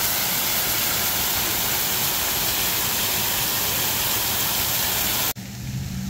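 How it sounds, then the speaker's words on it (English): A park fountain at Bell Tower Park in Salisbury, North Carolina, pours and splashes as a loud, unbroken rush of water that drops away abruptly just before the end. "they got a pretty cool fountain out here at the park."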